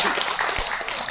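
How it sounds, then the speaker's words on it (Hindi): An audience applauds at a Hindi kavi sammelan poetry recital held by Jagdamba Cutlery Limited. The clapping is dense and sustained and fills the whole short moment. "तालियां आपको"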